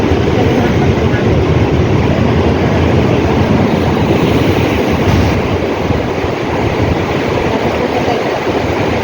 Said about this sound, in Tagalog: Oh, ang laki ng alon.